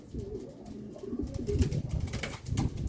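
A pigeon coos nearby in soft, repeated low calls, with light rustling and faint background noise around it.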